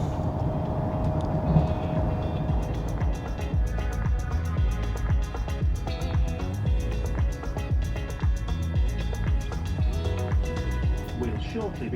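A train rumbles steadily along the rails between Leeds and York with a continuous low roar and faint rhythmic clatter, heard from inside a carriage.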